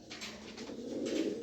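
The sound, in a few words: male pigeon cooing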